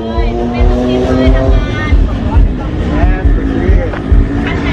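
A drift car at the East Pattaya Drift Race Club in Thailand revs hard with spinning tyres, its engine note rising and falling in loud repeated bursts, while people chatter nearby.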